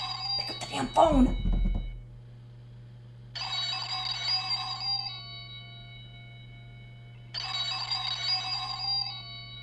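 A website's telephone rings in two distinct bursts a few seconds apart, a bright trilling bell over a low steady hum, following a short loud thump at the start.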